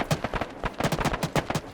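Rapid bursts of gunfire in the Arma 3 video game, sharp repeated cracks in an uneven rhythm, fairly faint and distant-sounding.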